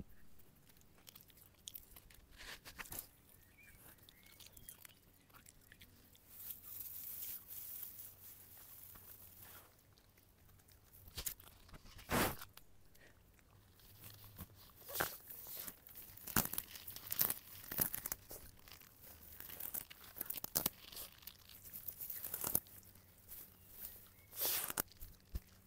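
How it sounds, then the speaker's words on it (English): Someone digs a hole in garden soil, with irregular scraping, crunching and tearing strokes of loose earth close by, some sharper impacts in between, and no talking. "she's digging a hole right over here, so let's listen to her"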